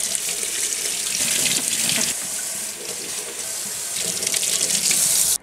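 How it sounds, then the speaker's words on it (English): Kitchen tap water runs steadily into a sink while vegetables are washed, a loud, continuous broadband splash that hardly varies for several seconds. "We wash well all the vegetables."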